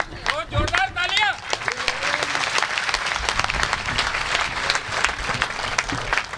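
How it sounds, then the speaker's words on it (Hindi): Loud, sustained audience applause in a packed hall at a Hindi poetry recital, clapping continuing steadily throughout with a brief voice and cheers near the start. "जोरदार तालियां।"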